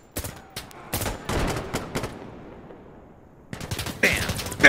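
Gunfire in a video game sounds as loud, rapid bursts of sharp shots, then a brief lull before another close burst.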